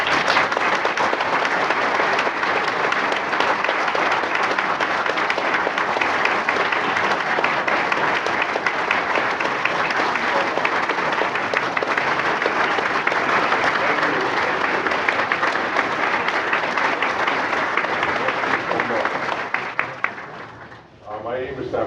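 An audience applauds to welcome Dennis Prager, a loud, dense, sustained wash of clapping that keeps going at full strength for about twenty seconds before it tapers off quickly at the end.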